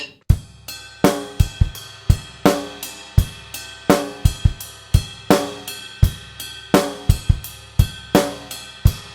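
A drum kit plays a steady groove of a Trinity grade 3 piece from a repeat into its second ending, with crisp snare and bass drum strokes and cymbal hits in a close, continuous pattern.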